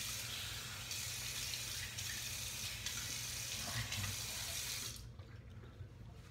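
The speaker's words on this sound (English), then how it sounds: "Go ahead and rinse." A tap runs steadily while a Feather AS-D2 stainless safety razor is rinsed under it, a close, continuous gush of water that cuts off abruptly near the end, leaving a quiet trickle.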